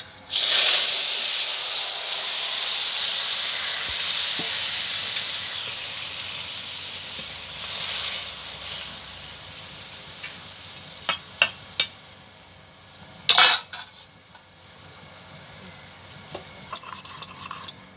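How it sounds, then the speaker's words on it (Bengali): Cooked vegetable curry tipped back into a hot pan after a cumin tempering, with strong continuous sizzling and hiss, close stirring scrapes and a few sharp clanks of a spatula against the pan. "তরকারিটা আবার দিয়ে দিচ্ছি"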